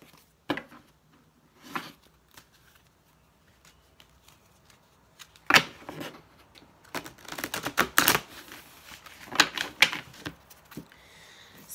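A Lover's Path Tarot deck is shuffled in a quiet room, with a few isolated card flicks followed by a busier run of crisp riffling and tapping bursts.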